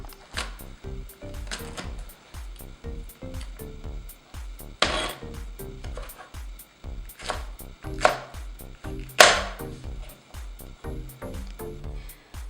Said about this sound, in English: I'm going to cut up 2 more jalapenos so we can throw those in.